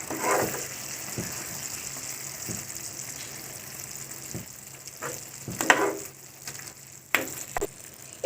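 Tomatoes are stirred into frying mutton keema with a low, steady sizzle and scattered clicks and scrapes from the spoon, with a few louder knocks toward the end.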